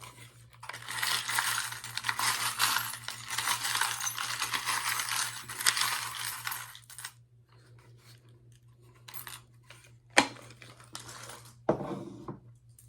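Small metal charms rattle and jingle as they are shaken for several seconds, then a few quick clinks as they drop onto a surface, all close up with a low steady hum underneath.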